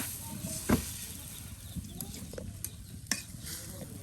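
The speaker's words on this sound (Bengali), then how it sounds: "হ্যাঁ এই যে মাছের সাথে মশলা কিন্তু বেশ কষানো হচ্ছে।" Tilapia pieces cook down with spices in a pan over a strong flame, the sizzle steady beneath sharp scraping stirs and occasional clinks, up close, with no talking.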